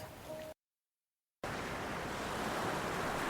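Broad, steady wash of sea waves and wind on a ship's deck, loud and continuous, broken by a brief silent gap before the rushing surf noise resumes.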